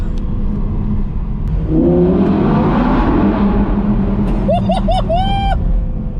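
An Audi R8 V10 Spyder engine roars and revs up, its pitch climbing and then rising in short sharp bursts near the end.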